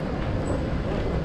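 Sapporo city tram streetcar passing nearby, a steady loud low rumble of wheels and motor with a faint high squeal, continuous throughout.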